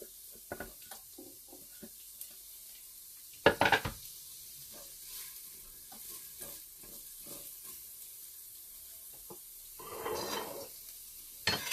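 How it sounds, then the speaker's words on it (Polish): Chopped shallot sizzling as it heats in a Tefal Cook4me pot, with a soft, faint frying crackle under scattered clinks and knocks and a louder burst of sizzle near the end. "Do garka jak już się podgrzewa wrzucamy szalotkę."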